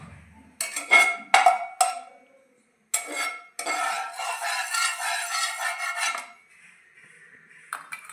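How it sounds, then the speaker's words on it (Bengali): A spoon scraping and stirring ghee in a metal karai while making carrot barfi, clattering bursts then a sustained close scraping, ending in quieter pauses, no talk. "আর এভাবে কড়াইটাতে নেড়ে নেব।"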